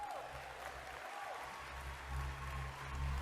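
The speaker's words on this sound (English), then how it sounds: "I do have to note the clapping for Jean Charest" An audience at a political event claps steadily and fairly faintly, a continuous wash of applause with a low hum underneath.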